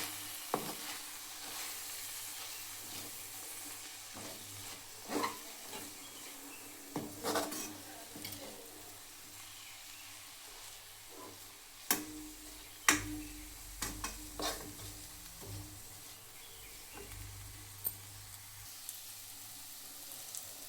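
Chilli powder and coriander powder stirred into a frying pan while cooking a bean curry, with a faint sizzle under scattered scraping and clinking of a utensil against the pan, no voices.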